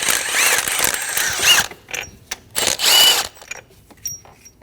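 Ratchet or power tool working on the transmission mount bolts of a 2012-2022 Volkswagen Passat, heard as a dense burst of close mechanical whirring followed by several shorter spurts with brief pauses between them.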